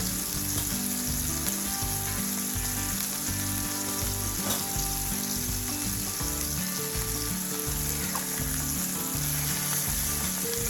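Seasoned hamburger steak patties frying in a hot pan, a loud, continuous close sizzle and crackle that stays even throughout, with no one talking.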